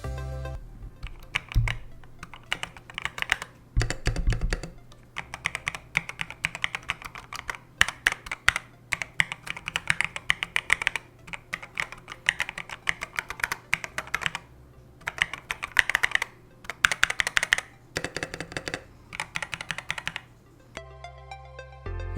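Typing on an EPOMAKER mechanical keyboard with hot-swap switches, rapid close-up clacking keystrokes in bursts with short pauses, crisp and clear with no talk.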